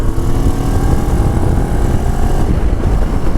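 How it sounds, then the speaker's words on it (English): A Moto Morini 650cc adventure motorcycle engine drones steadily while riding, loud and continuous, mixed with rushing wind noise. "So I'm sitting very tall on this bike. It's a tall adventure bike. Okay, so 650cc engine."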